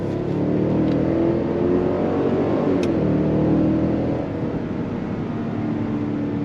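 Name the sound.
Cadillac Escalade Sport 6.2 liter V8 engine accelerating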